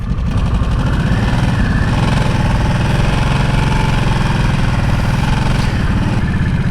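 A 2024 Harley-Davidson Nightster Special RH975S motorcycle engine runs on a demo ride, a loud, steady, close rumbling drone with constant vibration and no talking.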